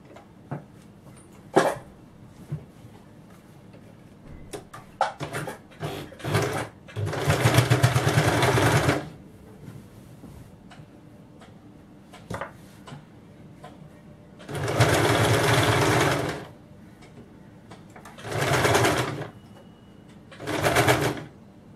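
A sewing machine stitches the side seams of a kameez with a double fold, running in several loud bursts of a few seconds each, separated by quiet pauses filled with small handling clicks and rustles of cloth.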